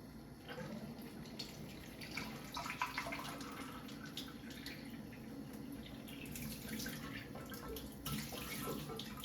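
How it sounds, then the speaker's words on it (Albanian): Water pours in a steady, continuous stream from an Enagic Kangen Leveluk K8 water machine into a glass, with a faint splashing rush and no voices. "Tani unë do të marrë një gotë tjetër dhe do të hapi ujin kangën."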